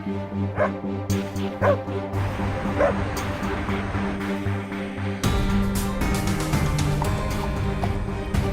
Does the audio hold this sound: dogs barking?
yes